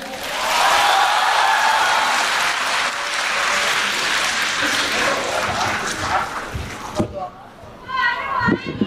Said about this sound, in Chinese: 我们用最热烈的掌声有请郭德纲